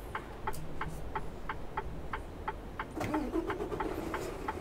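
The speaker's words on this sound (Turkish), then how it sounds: "Hemen şöyle aracımızı çalıştıralım." A Mercedes-Benz Tourismo bus engine starting in a driving simulator game, with a regular ticking click repeating steadily before the engine catches and settles into a low idle hum.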